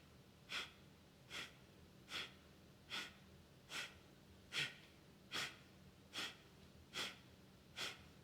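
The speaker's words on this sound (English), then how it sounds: "breath of fire" Rapid yoga breath of fire, taken in goddess pose: sharp, regular nasal exhalations, about ten in a row at an even pace, faint and close.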